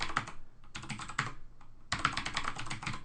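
A password being typed on a computer keyboard during Linux account setup, three quick bursts of close, crisp key clicks separated by short pauses.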